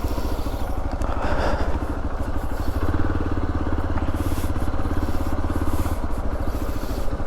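A motorcycle ridden off-road on a left-hand track through dense greenery, its mid-pitched engine droning steadily and close throughout with a constant rumbling pulse and faint rattling clatter.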